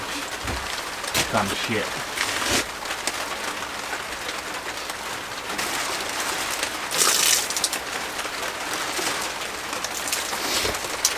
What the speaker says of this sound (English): it's a bit rainy today